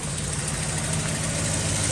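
A Chevy truck engine idles smoothly without misfire, a steady, loud, even rumble heard up close with no talking.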